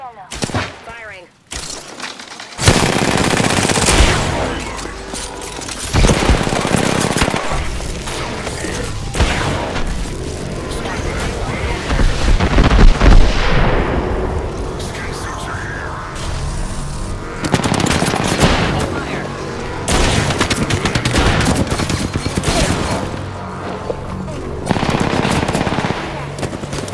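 Video-game gunfire: sustained loud machine-gun bursts, rapid shots and booms in long stretches with brief pauses, mixed with game voices and effects.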